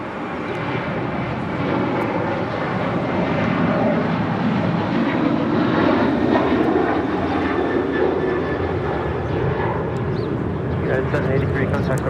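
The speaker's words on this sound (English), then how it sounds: "This is United 783 taking off to Washington Dulles on a 737-900ER." A United Boeing 737-900ER airliner departing from LAX toward Washington Dulles, its engines producing a steady broadband jet roar that holds loud and continuous throughout, with radio chatter and talk running underneath.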